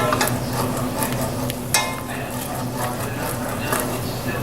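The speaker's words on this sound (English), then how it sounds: "Yep, get my roux stirred down." A thin blonde roux is stirred steadily in a hot pan while making a turducken dinner, giving a continuous close scraping swish over a soft sizzle, with occasional light clinks of the utensil against the pan.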